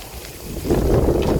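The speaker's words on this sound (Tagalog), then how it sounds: "Lakas kasi ng hangin mga idol." Strong wind buffets the microphone outdoors, a loud low rumbling roar that swells and grows heavier partway through, with no voices.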